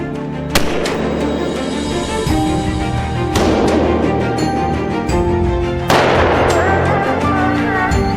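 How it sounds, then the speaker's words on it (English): Three loud gunshots from a black bear hunt in the misty mountains of the Victoria Highlands, spaced a few seconds apart, each with a sharp crack followed by a long rolling echo. "The sound of gunfire echoes among the misty mountains of the Victoria Highlands"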